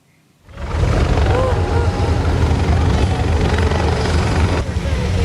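A presidential helicopter lands at Merdeka Stadium in Jombang, East Java, its loud rotor roar and turbine whine rising abruptly after a brief quiet moment and then holding steady and close.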